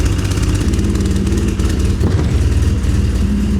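An engine runs steadily and loudly up close, a constant throbbing hum that barely changes across the few seconds, with no speech over it.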